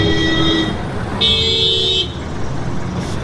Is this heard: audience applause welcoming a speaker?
no